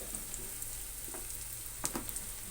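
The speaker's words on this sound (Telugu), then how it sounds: "అల్లం వెల్లుల్లి పేస్టు పచ్చివాసన పోయేంత వరకు వేయించుకోవాలి" Ginger garlic paste frying in oil with onions and green chillies, a faint steady sizzle under a low hum, with a couple of brief stirring clicks near the end.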